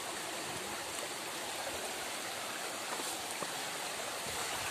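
A river stream flows through a forest, a steady broadband rushing of water with faint ticks and splashes, continuous and fairly close, with no voices.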